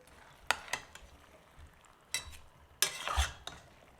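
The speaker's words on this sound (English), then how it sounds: "And we won't be stirring too much because we don't want the chana to break up" A spoon stirs chana and potato curry in a pot with a few scraping strokes and brief bursts of sizzling, spaced apart over a quiet background.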